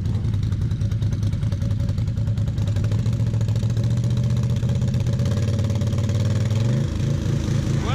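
A Kawasaki KFX 700 quad idles and clatters close by as it backs up at a quad meetup in a digger park, its engine note steady and then rising briefly near the end.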